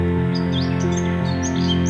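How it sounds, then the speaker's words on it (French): A European robin chirps on a branch, its bright, quick high tweets repeating over a steady, sustained musical drone. "Un rouge-gorge, juste là sur une branche."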